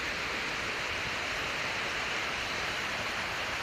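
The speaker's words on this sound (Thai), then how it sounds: "เห็นคลื่นน้ำที่มันไหล" Water spills over a weir near home at dawn, a steady, dense broadband rush that stays even and constant throughout, with no voices.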